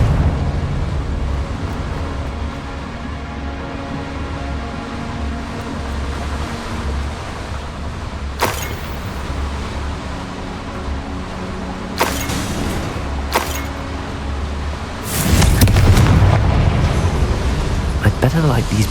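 In Hogwarts Legacy, the Confringo fire spell sets off explosions near boilers. A low, steady rumble of ambience is broken by several sharp blasts, ending in a louder, roaring fiery burst that lingers.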